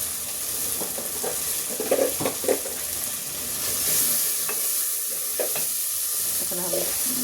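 Spices with ground coriander, cumin and salt frying for jute leaves with mung dal, stirred with repeated scraping strokes over a steady hiss of sizzling oil, close and clear with no talking.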